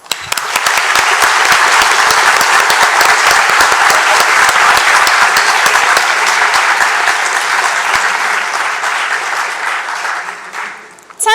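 A graduation ceremony crowd bursts into loud, sustained clapping that holds steady for several seconds before tapering off near the end.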